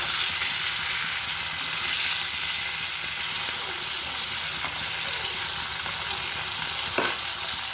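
Food frying in a pan with spices, a dense, continuous hiss of oil sizzle held close and loud for the whole stretch, with a faint clink near the end.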